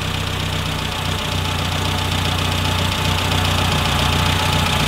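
A classic Mini engine, its carburettor just tuned and set up for E10 fuel, idles steadily up close, a loud even drone with a faint rhythmic knock and no voices.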